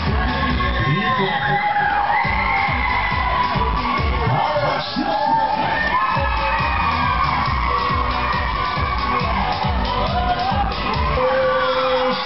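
Crowd on the Galactika fairground ride at a Commercy funfair screams, whoops and cheers continuously at high volume, with overlapping shouts and a host's amplified voice in the mix.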